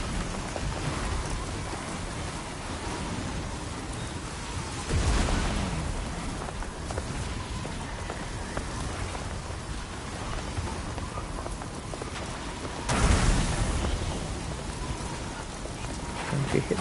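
Heavy rain pours steadily during a thunderstorm in the video game Death Stranding 2, with two loud rumbling thunder bursts breaking through the constant downpour.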